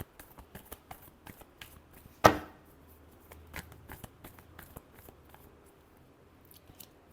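Tarot cards are shuffled by hand in a series of soft, quick riffles and taps, with one sharp snap partway through, all quiet and close.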